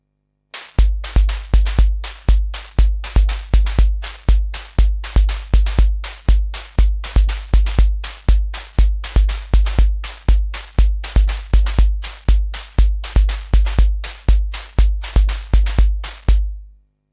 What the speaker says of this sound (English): So we'll start with the BeatStep triggering the drums